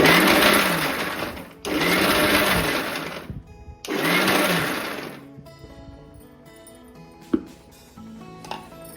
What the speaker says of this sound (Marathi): याला पाणी न टाकताच मिक्सरला फिरवून घ्यायचं आहे आपल्याला